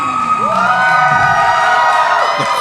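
Arena crowd on its feet cheering and whooping at a pro wrestling show as the defending WrestleARTS openweight champion Apollo Starr makes his entrance, a loud, sustained roar filling the whole moment.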